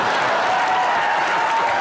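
Studio audience applause on a comedy show set, a steady, dense wash of clapping held at even volume for a couple of seconds, fairly close and alone.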